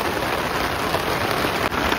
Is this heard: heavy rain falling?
yes